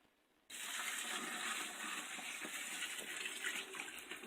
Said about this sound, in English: Got the other thing of sugar dissolved down into our water. We'll pour it off into the bucket.